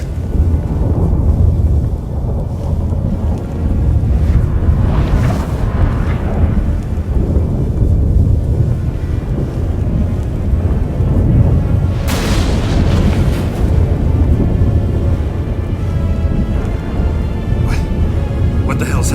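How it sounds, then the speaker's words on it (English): Thunderstorm in the video game The Witcher 3: continuous heavy rumbling thunder with booming cracks and a rain-like wash, loud and close, while characters speak over it. "That a storm?"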